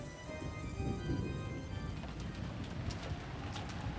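Steady rain falls with wind in the visual novel Umineko When They Cry, a continuous close hiss of drops with a faint tonal music bed underneath and no speech.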